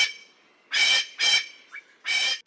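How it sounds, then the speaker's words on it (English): A pheasant gives three loud, harsh, raspy calls close up, each about a quarter second long and separated by short pauses, with no other sound around them. "Pheasant sounds like cuck cuck."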